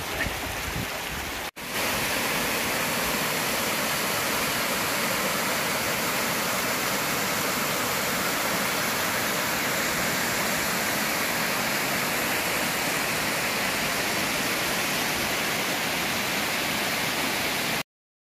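A steady, full roar of falling water from Beedelup Falls in Karri Valley, Western Australia, fills the scene, loud and continuous with no voices, briefly cut off near the start before resuming.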